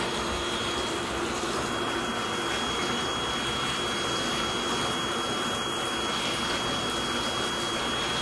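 Hot water gushing from the tap into a master bath soaker tub, a constant loud rushing splash that never lets up, with no voices.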